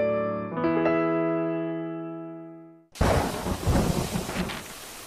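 Heavy rain and a thunderstorm hit abruptly after a long, fading musical tone, then become a loud, dense roar of rainfall with rumbling thunder.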